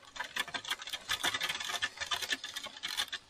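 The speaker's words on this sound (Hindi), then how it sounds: "हमारी ट्रिप की पहली बारिश मिल चुकी है हमें।" Steady patter of rain drumming on a surface nearby, dense irregular taps with no voices.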